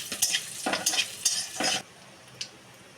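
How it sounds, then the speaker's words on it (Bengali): Dried red chillies, bay leaves and panch phoron are stirred in hot oil, making a few short bursts of sizzling and scraping up close before the sound drops to quiet. "শুকনো লঙ্কা দিয়ে দেব, তেজপাতা, পাঁচফোড়ন দিয়ে একটু নাড়িয়ে নেব।"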